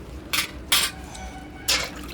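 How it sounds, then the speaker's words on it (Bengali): Water splashing while a kadai, an Indian cooking pan, is washed: three short, close bursts of sloshing over a quiet kitchen background. "ধুইয়া আবার কড়াইটা বয়া দিলাম।"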